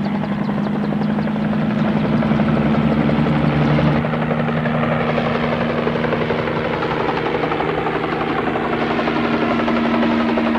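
A firefighting helicopter's rotor thumps in a steady, loud drone with a constant engine hum, close by and continuous throughout, as it carries a water bucket over a burning forest.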